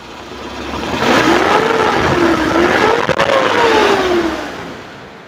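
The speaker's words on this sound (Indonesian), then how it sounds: "Kita naikkan RPM juga suaranya tetap normal" A 2002 Suzuki Futura van engine revs up steadily, its pitch rising and falling in smooth waves as the throttle is held and eased, loud and close, with no voices.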